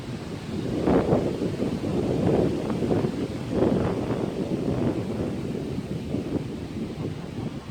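Steady wind blows outdoors in the sun, a continuous low rushing and buffeting against the microphone that swells in gusts for several seconds, with no voices.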